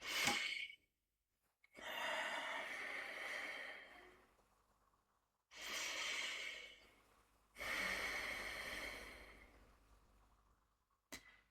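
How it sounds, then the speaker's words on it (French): Slow, deep breaths during a guided breathing exercise, four long breaths close to the mic, each a drawn-out airy rush separated by pauses of near silence. "Prends de grandes inspirations."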